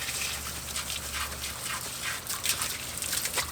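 Water from a garden hose splashes and gushes steadily while hands are washed under it, a close, continuous hiss with brief louder spatters.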